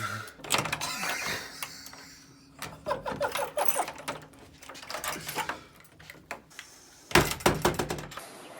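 Keys rattle and scrape in the lock of a cellar door as someone tries them one after another, bursts of metallic jangling and clicks with a heavy thunk near the end, heard close, no talking.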